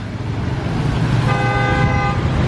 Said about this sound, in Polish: Każdy na każdego otrąbi, każdy sobie jeździ jak chce